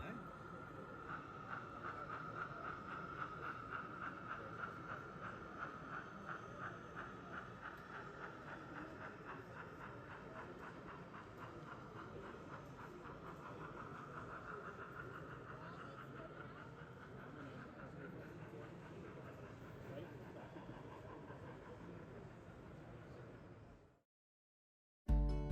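An N-gauge model train runs steadily on an exhibition layout with a fast, rhythmic clicking over the rails, continuous and close, then cuts off abruptly near the end.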